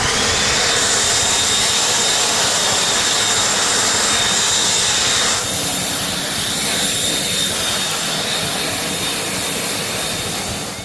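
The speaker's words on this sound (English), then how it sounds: "This is why I like this TECCPO blower." TECCPO 40-volt cordless leaf blower running at close range, a loud steady high-pitched whoosh with a constant whine that eases slightly partway through.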